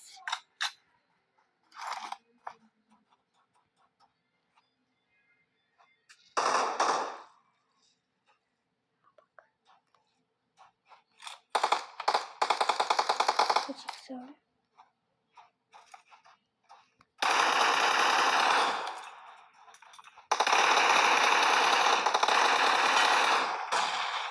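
M4 rifle spray fire in the video game PUBG: several dense bursts of rapid automatic gunfire, the longest near the end, separated by quiet gaps with faint clicks.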